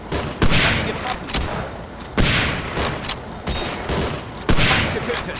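Gunfire in the video game Hidden & Dangerous 2: loud, rapid bursts of shots arrive in repeated clusters roughly every second or two, dense and close, with no talk.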